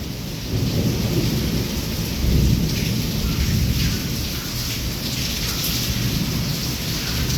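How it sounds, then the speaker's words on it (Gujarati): Heavy downpour and rolling thunder in Wankaner during a storm with nonstop lightning: a steady, loud hiss of rain on surfaces over deep, continuous rumbling that swells around the middle, with no voices. "નોન સ્ટોપ વીજળી થાય છે નોન સ્ટોપ નોન સ્ટોપ જો અવાજ એનો જો કડાકા ભડાકા"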